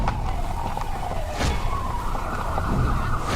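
An ambulance siren wails with a slowly rising and falling tone over a rumble of traffic, fairly distant and steady throughout.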